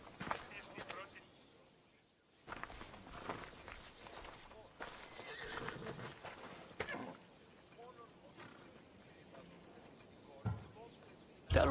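A horse in Assassin's Creed Odyssey, a sturdy Skyros mount, is heard faintly with soft hoof clops and movement under outdoor ambience with insects, while voices talk over it.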